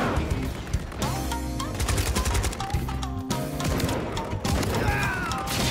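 Gunfire in Call of Duty Modern Warfare 3 during a close-range fight, dense overlapping shots and bursts with clanking weapon mechanics, loud and continuous with no pauses.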